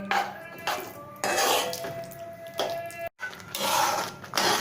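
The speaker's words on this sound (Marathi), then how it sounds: "हे मिश्रण असं ढवळत राहायचं सारखं" A spoon scrapes and stirs a thick lentil and jaggery mixture in a metal pot in steady, repeated strokes, close by and fairly quiet.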